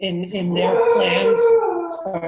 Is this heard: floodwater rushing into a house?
no